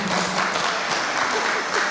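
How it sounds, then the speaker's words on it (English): Applause from the audience at a student council presidential debate, a dense steady clatter of many hands filling the whole stretch with faint voices mixed in. "let's clap for him."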